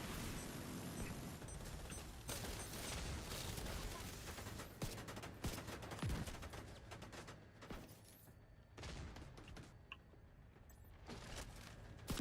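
Dense, sustained gunfire from the video game The Division 2, with rapid automatic bursts and overlapping shots at a fairly low level and few pauses in the firing.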